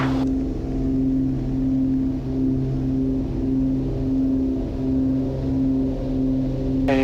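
A small airplane's engine runs at takeoff power, a steady loud droning hum with strong tonal harmonics and slight pulsing, sustained close by without speech.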